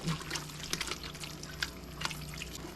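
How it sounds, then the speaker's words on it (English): Crushed tomatoes slide from a can into a pot of homemade chili, giving a soft wet glug and a few faint drips and splats, quiet against a low background hum. "we're gonna be adding a can of crushed tomatoes"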